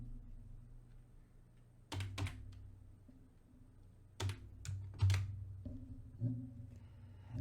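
Several sharp keystrokes on a computer keyboard while a password is entered, coming in scattered clusters over a quiet low hum, close and fairly faint.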